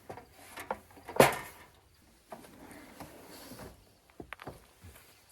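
A wooden drawer slides open in a car camper conversion, a sharp clack followed by softer knocks and rustling of packed cooking and food supplies, quiet and close with no talk.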